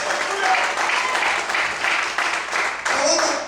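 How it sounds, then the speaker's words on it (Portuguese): A church congregation claps loudly during a sermon, a dense, close burst of applause with rhythmic surges. A voice briefly rises over the clapping near the end. "Você pode aplaudir o Senhor em forte."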